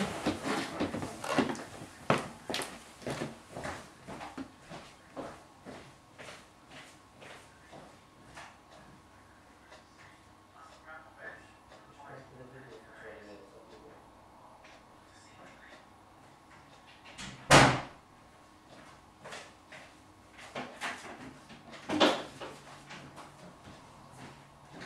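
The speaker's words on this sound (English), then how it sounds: "I'll just shut that door because I can hear something." A door is pushed shut with one sharp, loud thud partway through, standing out from scattered knocks, footsteps and low room noise in a hall during a church sermon.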